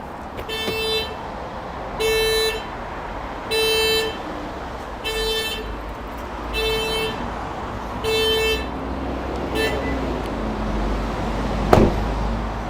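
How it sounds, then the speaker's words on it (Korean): A car's anti-theft alarm goes off when a door is forced open, sounding about six loud, evenly spaced horn blasts before it falls quiet, ending with one sharp click. "문을 강제로 열었을 시에 경보가 울리게 됩니다."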